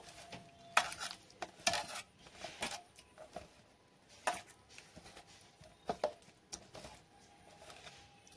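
Boiled potatoes being mixed by hand with garam masala powder, ghee and water for Bengali dum aloo, giving irregular wet squelches, clinks and scraping knocks against a bowl, close and fairly quiet with no talk.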